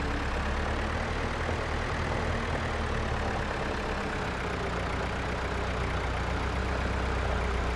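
A tractor engine in the farming game Farm Sim 25 runs in a continuous low, steady drone at even loudness throughout, with no voices.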